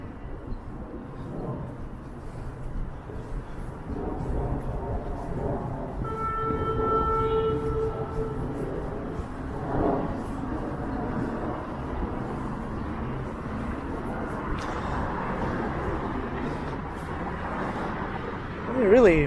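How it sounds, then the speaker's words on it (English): A train rumbles past rail yards at a distance with a steady low roar and rattling wagons, while a person talks over it now and then. "Here comes another train."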